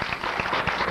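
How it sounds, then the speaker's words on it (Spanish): Audience applause for doña Iris del Valle at a tribute ceremony, a steady dense wash of clapping that carries through the whole short moment without pause. "en todo el país se está escuchando un aplauso grande para doña Iris del Valle"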